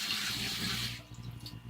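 Tap water runs and splashes in a sink while a face is rinsed with cool water, a steady soft hiss that cuts off after about a second, leaving faint drips and dribbles.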